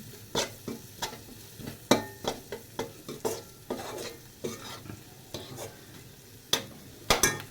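Repeated scraping strokes of a spatula stirring vermicelli for upma in a frying pan, an uneven rhythm of sharp scrapes over a low sizzle, close and fairly loud.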